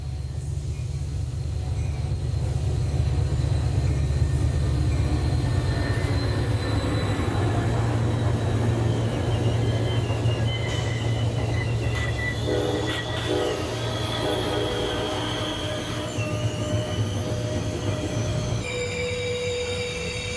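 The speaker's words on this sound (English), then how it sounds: "Amtrak's Lake Shore arrives at Hammond and will be making a quick stop at the station." Amtrak Lake Shore passenger train, a New York to Chicago consist of Amfleet and Heritage cars, rolling into Hammond station with steady loud rumble, a horn note and squealing wheels, no voices.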